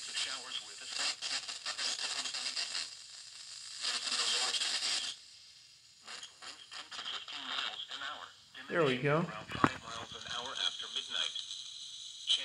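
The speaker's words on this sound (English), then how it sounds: "let's just try listening in to weather radio" Staticky weather radio broadcast received on an Android RTL-SDR scanner, a voice crackling through hiss and interference, fading in and out, then a nearby person speaks briefly.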